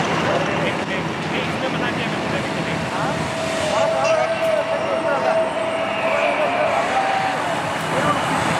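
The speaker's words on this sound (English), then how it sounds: "The helicopters will cross head-on and perform synchronized stall turn" Sarang helicopters crossing head-on at an Indian Air Force airshow on a beach, with a steady, loud rotor and engine roar that swells slightly mid-pass under a mix of crowd noise and announcer speech.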